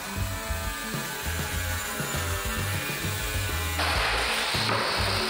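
A power tool cuts through a 200 mm plastic riser along a marked line, giving a steady buzzing, grinding whine with a brighter, harsher rasp near the end. The sound is continuous and close, with no voices.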